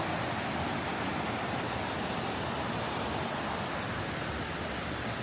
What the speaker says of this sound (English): There's a small waterfall down here, and another one just a little ahead.